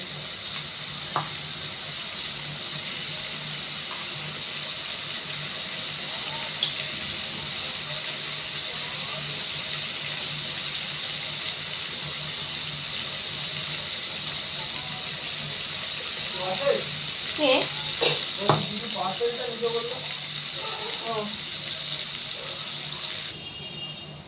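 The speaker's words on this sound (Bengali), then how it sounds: "আমি এবারে কাঁকড়াটা ঢেলে দেব" Cracked crabs poured into a pan of hot ghee and garam masala give a steady frying hiss throughout, with a brief burst of splashes and crackles near the end, close and fairly loud.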